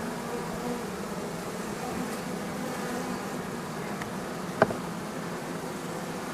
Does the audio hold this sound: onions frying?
no